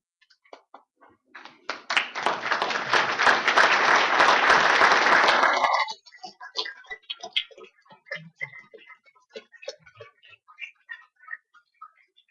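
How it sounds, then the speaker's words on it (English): Applause from an audience at a university commencement ceremony for an information science and technology college swells into dense, sustained clapping for a few seconds, then thins out into scattered individual claps before stopping. "please take that opportunity to stand and give a round of applause to those special people in the audience"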